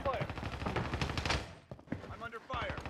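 Rapid gunfire from a video game match on Call of Duty's Rebirth Island, dense bursts up close for the first second and a half, then scattered shots with short gaps.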